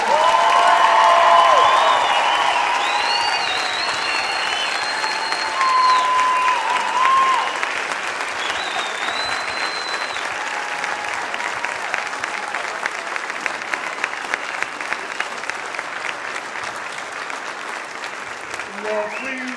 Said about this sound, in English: give Reverend Sharpton and Mr. Saunders another round of applause